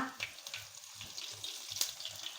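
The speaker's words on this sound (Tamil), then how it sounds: "இப்போ பாருங்கள் நம்ம சேர்த்த கருவேப்பிலையும் நல்லா பொரிஞ்சு வந்துருச்சு" Mustard seeds and curry leaves splutter in hot oil while banana stem stir-fry is prepared, a busy crackle of small sharp pops over a soft sizzle, with a few dull low knocks throughout.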